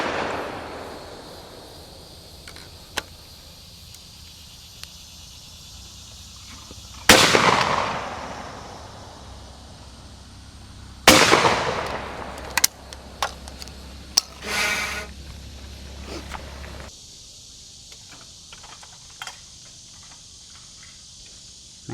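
Shotgun blasts at sporting clays targets during a Louisiana state sporting clays championship: two loud, sharp reports a few seconds apart, then a cluster of smaller pops, over a steady background of insects.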